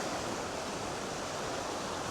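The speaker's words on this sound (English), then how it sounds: "Little sluice gate there on the River Kennet." Water rushes steadily through a small sluice gate on the River Kennet, a continuous broadband roar like a weir or waterfall, close and constant with no voices.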